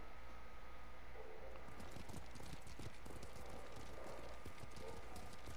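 Horse hooves clip-clop in a steady, brisk rhythm in the video game Ghost of Tsushima, close and clear over a constant background hiss.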